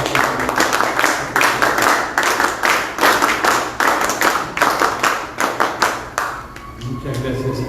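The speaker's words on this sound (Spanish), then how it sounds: "Lo recibimos con fuertes palmas para que tenga su primera intervención." Strong applause from an audience welcoming a speaker to a panel, loud rhythmic clapping with some hands falling into unison, fading after about six seconds into quieter room noise.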